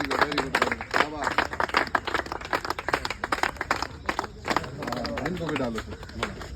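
Rhythmic clapping at a welcome ceremony for a newly selected Bihar Police recruit, loud and close, with people talking and calling out over the claps.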